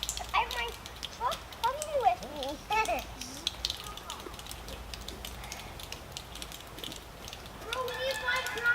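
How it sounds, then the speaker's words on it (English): Children running around a home making noise, with scattered high-pitched kid voices, squeals and clatter coming and going, loudest early and again near the end, under an adult talking. "You see my kids are running around making noise."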